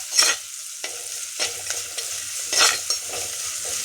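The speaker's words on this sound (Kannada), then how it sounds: "ಈರುಳ್ಳಿ ಮತ್ತು ಶುಂಠಿ ಹಸಿಮೆಣಸಿನ್ಕಾಯಿ ಇಷ್ಟನ್ನು ಹಾಕ್ಕೊಂಡು ಸ್ವಲ್ಪ ಫ್ರೈ ಮಾಡ್ಕೊಳ್ಳಿ ಚೆನ್ನಾಗಿ" Onion, ginger and green chillies sizzle in hot oil while a spoon stirs and scrapes the pan in irregular strokes, close by, with no voices.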